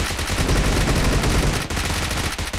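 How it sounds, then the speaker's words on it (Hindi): Rapid bursts of automatic gunfire in the mobile battle royale game BGMI, loud and dense, firing almost continuously with brief gaps. "गोली चल रहा"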